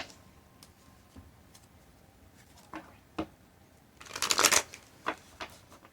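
Tarot cards are shuffled by hand with light, close ticks and taps that end in a dense, brief riffling burst and a few soft clicks, without talk.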